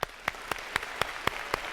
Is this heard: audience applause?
yes